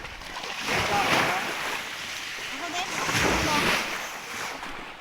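Ocean waves at a beach surge and wash in twice, swelling and receding, with wind buffeting the microphone and voices faintly mixed in.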